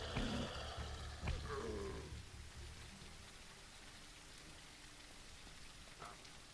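Steady rain patters in a zombie survival game, louder and busier at first with a few thumps, then settling into a quieter, even hiss; faint voices.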